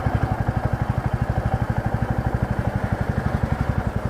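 A motorcycle ridden slowly in second gear, its engine thumping in a steady, rapid rhythm at close range and moderate loudness, with no voices.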